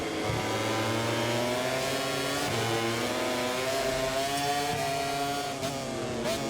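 A MotoGP 24 racing motorcycle's engine howls and drops through downshifts as it brakes hard into a turn, with harmonic pitch steps falling and rising, loud and close throughout.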